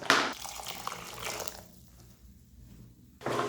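Rinse water is poured into a pan of fennel (sombu) kurma gravy, a splashing liquid pour that fades, followed by a short quiet gap and another burst of splashing at the end, with no talking.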